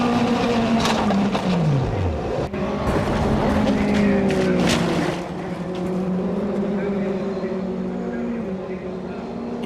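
A race car at Oulton circuit screams by at high speed, with its engine note sweeping downward as it passes and then holding a loud, strained whine. A narrator talks over the engine.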